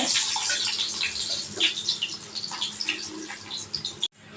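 Onions dropped into a little hot sesame oil sizzle and crackle in a steady bright hiss, close and loud, with no talking, cutting out abruptly near the end.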